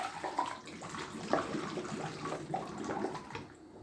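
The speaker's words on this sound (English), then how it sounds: "you can pour in 8 ounces of water that had been boiled." About eight ounces of previously boiled water, no longer boiling, is poured into a container for a homemade hair detangler spray, making a soft, uneven splashing trickle that fades near the end.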